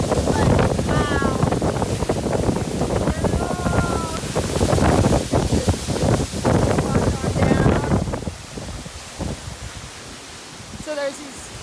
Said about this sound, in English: Oh, it's so cold. And windy.